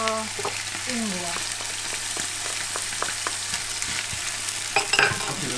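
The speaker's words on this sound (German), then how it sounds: "das muss ich jetzt mal ein bisschen andünsten" Garlic and ginger sauté in a pan, a steady soft sizzle broken by several sharp scrapes and clatters of stirring, close and fairly loud, with no talking.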